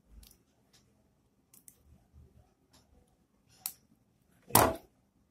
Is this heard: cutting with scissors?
yes